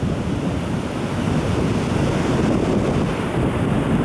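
Sea waves surge and break at the beach under a steady westerly wind blowing straight onshore, a continuous loud roar of surf and gusting wind rumble filling the whole stretch with no talk.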